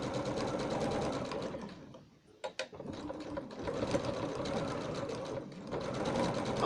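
A sewing machine stitches a quilted bed runner seam with a fast, close, rhythmic whirring chatter, pausing briefly midway with a few clicks before running steadily again to the end.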